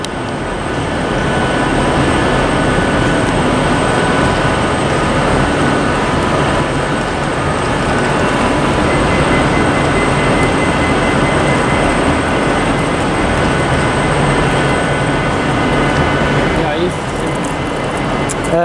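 A Northern Class 319 electric multiple unit pulls out of Liverpool Lime Street bound for Crewe, giving a steady, loud rumble and hum that runs for the whole stretch, with a brief change near the end.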